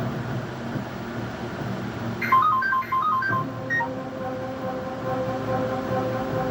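A mobile phone ringtone plays a short melodic tune, then settles into steady repeated tones as a call keeps coming in. It sounds over a constant rumbling background, with no talk.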